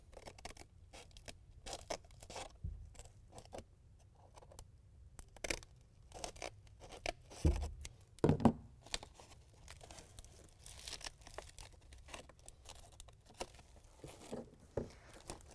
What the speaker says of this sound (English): we're also going to want to trim it right where these lines right here are